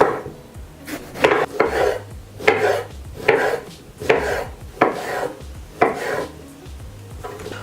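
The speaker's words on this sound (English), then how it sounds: "You start by taking a large aubergine and all we're going to do is we're going to cut it into small cubes" A knife cuts a large aubergine into small cubes on a board, giving a steady series of about a dozen close, crisp chopping thuds at a regular rhythm.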